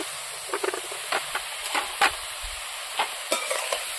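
Ginger and garlic paste with coriander paste, cumin, black pepper, red chili and Kashmiri chili powders sautéing in a pan for a village-style bottle gourd and dried fish curry; a spoon stirs and scrapes in scattered strokes over a soft steady sizzle.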